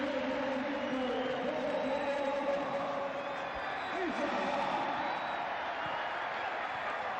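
A big football stadium crowd at a charity match keeps up broad, continuous applause and murmur, a loud even wash of clapping while a commentator talks over it.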